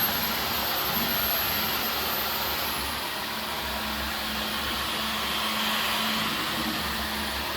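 A Dyson V15 Detect cordless vacuum cleaner runs continuously with a steady, loud, even whine and airy rush, unchanging throughout with no voices.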